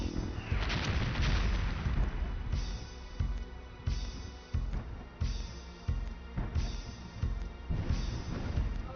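Evil spirit bomb attack in the video game Dark Cloud: a heavy rumbling blast opening into a series of loud, repeated booming impacts pulsing roughly every second, with no talking.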